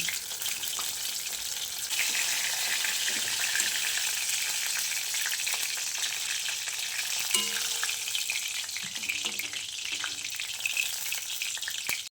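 Food sizzles and crackles in hot oil, a steady bright frying hiss with occasional scraping stirs nearby.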